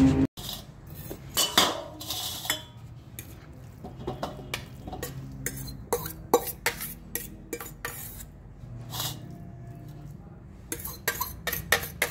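Steel pot of milk set down on a home kitchen stove to boil, with clinks and knocks of pans and utensils scattered through a steady background hum, moderately close, no talk.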